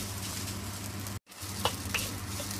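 Day-old rice with a pinch of salt is stir-fried in a wok, a steady close sizzle broken by a brief cut and a few scraping stirs.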